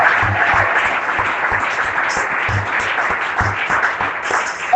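A church congregation applauds in steady, dense clapping that carries on throughout, loud and even, with a faint undertone of voices.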